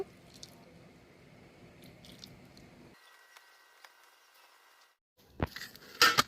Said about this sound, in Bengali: ভালো করে ময়দাটা মেখে নিয়েছি